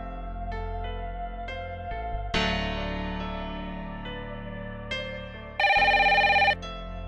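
A telephone rings repeatedly in electronic bursts, a bright tone that cuts in and out, loud and close, with no talking.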